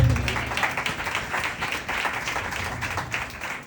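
Loud applause from a church congregation during a sermon, steady broadband clapping filling the clip with a few dips in intensity.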